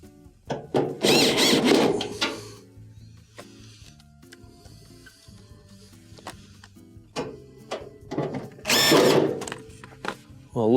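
A power drill drives screws into a Maytag dryer console, two loud whirring bursts with quieter clicks and handling noises between them and no talking.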